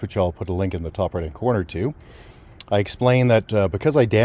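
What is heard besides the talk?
No everyday noises stand out.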